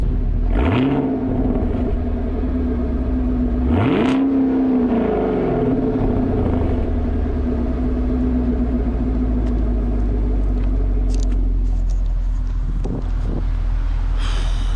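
A sixth-generation Chevy Camaro SS V8 engine revs hard twice in quick succession, then settles into a loud, rumbling idle close by, with a burbling exhaust throughout.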